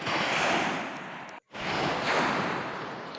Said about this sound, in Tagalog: Kaya tahimik pa yung dagat.